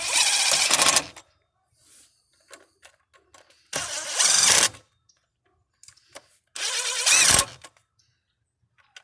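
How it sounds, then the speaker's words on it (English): Ratcheting a wrench to run down alternator bracket bolts on a 2006 Ford Expedition, heard as three loud, close bursts of rapid clicking separated by quiet pauses with faint small taps. "once you got all your bolts started, just run them down"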